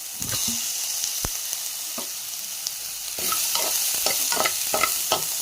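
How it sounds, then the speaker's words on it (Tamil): A spoon stirs potatoes into onions and turmeric frying in a pan for potato kurma, with close scraping strokes over a steady sizzle that grows louder and busier halfway through. "லைட்டாக ஒரு மிக்ஸ் கொடுத்துட்டு உருளைக்கிழங்கு போட்டுக்கலாம்."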